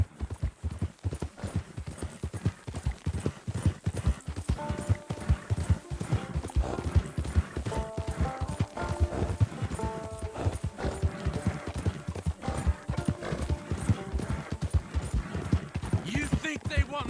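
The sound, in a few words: horse hooves clip-clopping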